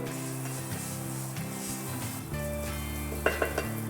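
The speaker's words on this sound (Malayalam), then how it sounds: "ജസ്റ്റ് പാൻ ഒന്ന് ചൂടാക്കിയതിന് ശേഷം ഒരു ടീസ്പൂൺ ബട്ടർ, അതിനുശേഷം ഒരു 100 ഗ്രാം ബ്രൗൺ ഷുഗർ" A teaspoon of butter and about 100 grams of brown sugar sizzle in a heated pan, giving a steady close hiss under a low hum, ending in a few quick clinks of a utensil.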